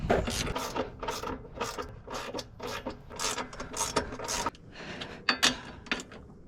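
A wrench tightens tension rod bolts on a car suspension, making a close series of quick ratcheting clicks in uneven bursts, then a pause and a few sharper ticks.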